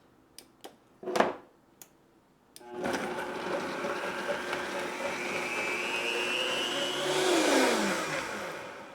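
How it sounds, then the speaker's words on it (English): A few sharp clicks, then a Vitamix blender starts up blending balsamic salad dressing, a loud steady motor whine and churning roar that climbs in pitch toward the end. "I'm going to turn on the Vitamix and let her go."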